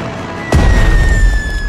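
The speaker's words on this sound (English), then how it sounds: "Let's bombard it before attacking it with our troops. Now select the bomber." Bombing run in the strategy game Strategic Mind: Blitzkrieg, a loud explosive boom that bursts in suddenly and rolls on as a sustained rumble over a thin tonal game hum.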